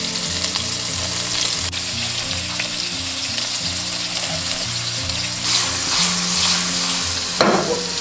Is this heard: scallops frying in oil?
yes